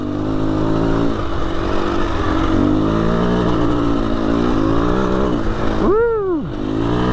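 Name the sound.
KTM 350 EXC-F dirt bike engine revving on a trail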